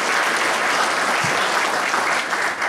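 Steady, dense applause from a conference audience at a sport management event, a continuous wash of many hands clapping at moderate loudness with no speech over it.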